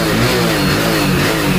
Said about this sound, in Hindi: ये देखो ये स्टार्ट हो चुकी है बाइक